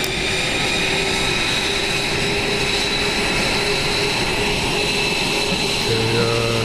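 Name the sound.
airplane engine in VRChat video game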